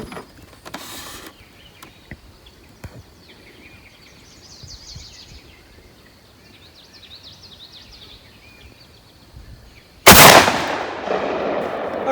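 A single loud gunshot from a 12 gauge muzzleloader firing a slug cracks out near the end, after a stretch of quiet outdoor background.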